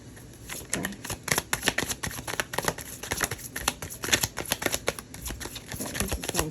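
A deck of tarot cards shuffled by hand for several seconds, making a steady run of quick, crisp riffling clicks and flutters, close up and fairly soft, with no voices.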